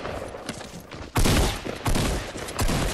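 Gunfire from a Fortnite Battle Royale match crackles in a few loud, rapid bursts of shots, with quieter scattered pops in between and no talking over it.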